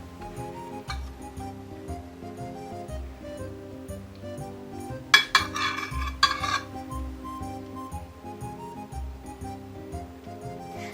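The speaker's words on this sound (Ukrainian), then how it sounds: "Перекладаємо гливи на тарілку для подачі." A few light clinks and scrapes of utensils against a plate rise midway as oyster mushrooms baked in cream sauce are moved onto a serving plate, over soft, steady background music.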